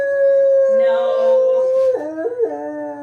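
A dog howls close by in a long sustained wavering tone, the pitch dipping and rising into yelping breaks near the end, indoors in a kitchen during Christmas baking.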